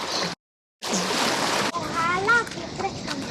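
Water splashes heavily as someone wades across a swollen, fast-running Alaskan river carrying belongings, loud close bursts of sloshing broken by a short gap, with a voice speaking over the later splashes.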